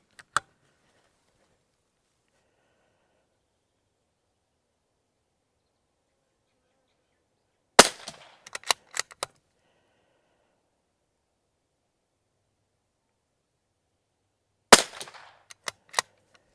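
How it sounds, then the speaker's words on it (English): Rifle shots fired with a PARD FD1 optic mounted crack out loud and close, two separate bursts of sharp reports several seconds apart, each trailing into quick echoes, with near silence between. "So we're shooting at the same place, shooting here."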